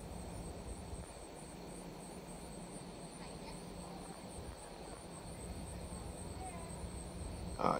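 Insects buzz and chirr outdoors during the 2017 solar eclipse, a steady high-pitched drone over a low, constant rumble of background noise that continues evenly without pause.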